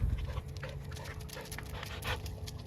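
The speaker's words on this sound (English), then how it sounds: "Avery Schatz and his dog play hard out at the Gallatin Regional Dog Park" A dog pants steadily and rapidly at a busy outdoor regional dog park, close and continuous, with faint whimpers and low background bustle but no talk.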